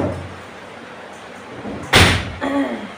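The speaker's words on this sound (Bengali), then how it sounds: "এই দেখো দরজাটাকে ঠাস ঠাস করে বাতাস লাগাচ্ছে" A door slams shut in gusty wind during a rainstorm, giving one loud, sharp bang followed by a second, softer knock, while faint background noise runs underneath.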